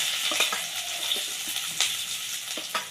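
Onions frying in mustard oil in a wok tempered with cumin and asafoetida, giving a continuous crackling sizzle with spoon stirs and small taps, close and fairly loud.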